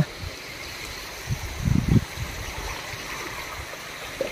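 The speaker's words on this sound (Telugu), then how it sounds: "ఫ్లో అవుతా ఉన్నాయి వాటర్, అలల్లాగా వస్తుంది ఏంది సముద్రంలాగా ఇక్కడ కూడా" Water at a dam flows in wave-like surges, a steady broadband rush with a louder swell in the middle, heard outdoors without talk.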